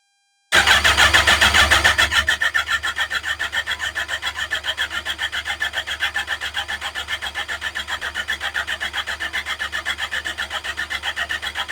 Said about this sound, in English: Let's try something. Spins over.